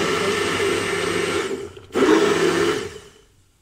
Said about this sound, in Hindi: और अब ये मैं इसको सिर्फ ज़रा सा ब्लेंड करूँगी